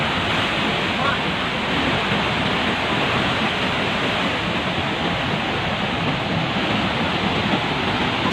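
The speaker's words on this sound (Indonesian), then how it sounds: "Kondisi debit air tinggi membawa material kayu dan batu beserta lumpur." A flooded river in West Sumatra, Indonesia, rushes at high volume carrying wood, stones and mud, a loud, unbroken roar of churning water.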